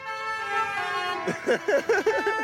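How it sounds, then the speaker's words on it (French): Tractor horns honk in a Paris street during a convoy of hundreds of tractors, a loud sustained multi-tone blast that breaks into several short rhythmic toots over steady engine noise. "Un klaxon comme ça, les gens se retournent, prennent des vidéos"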